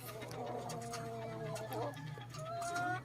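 Silkie and native ulikba mix chickens clucking in a backyard, a cluster of close, moderately loud clucks and short calls overlapping against low background hum.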